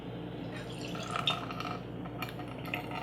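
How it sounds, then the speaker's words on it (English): Clean water is poured through a chlorine producing unit to flush its electrodes, giving soft, continuous trickling with small drips and a faint glassy clink, fairly quiet and close. "we'll then take and pour a little bit of clean water through just to flush it out"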